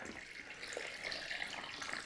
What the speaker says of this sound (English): I'll get this filled up with some nice,